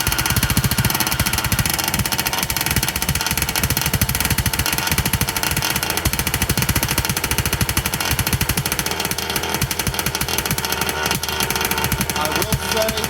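An OBR 34cc gas engine in a Losi 5IVE-B RC car idles during break-in, a loud, steady, rapid popping putter that runs close and unbroken throughout, slightly ragged in rhythm.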